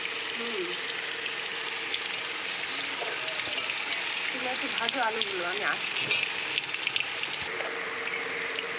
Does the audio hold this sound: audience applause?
no